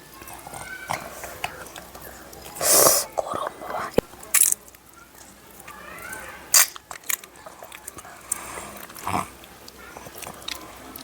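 Roasted eggplant, charred in a clay oven, is mashed by hand with salt and oil, giving soft wet squelches and crunchy squishes in an uneven rhythm, close up, with a few sharper louder bursts.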